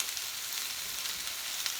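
Zucchini and squash frying in a pan on a stove, giving a steady, close hiss and crackle of sizzling oil with small pops, unbroken throughout and with no talking.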